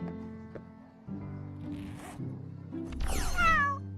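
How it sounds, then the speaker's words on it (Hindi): A cartoon cat meows near the end in a short rising-and-falling call, preceded by rustling and zipper-like sounds and a low hum at a school, with no speech heard. "तुम अपनी बिल्ली स्कूल में नहीं लेकर आ सकते हो"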